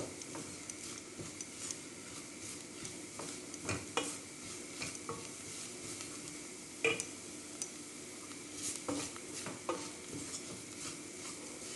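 Flour is stir-roasted in a pan for spicy bulgur soup: soft sizzling with repeated spoon scrapes and light clicks against the pan, fairly quiet and unbroken by speech.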